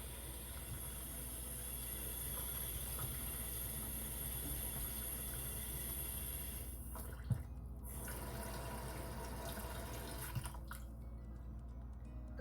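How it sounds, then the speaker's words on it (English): Water is poured over raw turkey necks to soak them: a quiet, continuous trickle and splash runs throughout, with a couple of soft knocks and no talking. "Put some water on."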